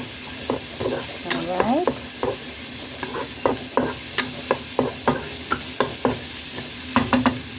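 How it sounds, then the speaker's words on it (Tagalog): Cubes of sliced salmon hit a hot pan and are stirred, giving steady frying sizzle with repeated scraping and clacking of a utensil against the pan; a voice speaks briefly. "pwede na nating ilagay ang ating fish salmon. Ayan, lahat to siya guys ay nakaslice lang siya into cubes"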